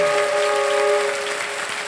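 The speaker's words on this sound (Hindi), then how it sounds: "तालियां बज जाए इनके लिए" Audience applause for a young contestant on the Indian quiz show Kaun Banega Crorepati, a dense steady wash of clapping that holds loud for the whole stretch with a faint tone running through it.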